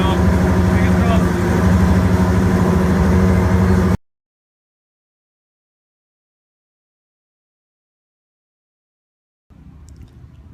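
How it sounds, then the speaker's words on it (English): A Le Mans race car engine warms up just after being fired, a steady loud idle with a constant low drone that cuts out abruptly, then returns faintly near the end. "The guys have just fired it up, so that's always a good sign, getting the engine warm"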